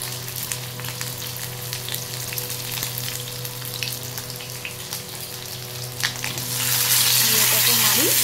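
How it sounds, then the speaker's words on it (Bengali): Sliced onions and long strips of capsicum sizzle in a hot pan, a steady close crackle that swells louder and hissier as more go in near the end. "পেঁয়াজগুলো দিয়ে দিচ্ছি, সঙ্গে এই লম্বা লম্বা করে কাটা ক্যাপসিকাম"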